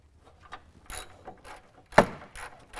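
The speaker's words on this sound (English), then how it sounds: "We're going to bolt this to our sway bar mount." A hand ratchet clicks in short, irregular bursts as a sway bar is bolted to its mount, with one sharper, louder click standing out among the quieter ratcheting.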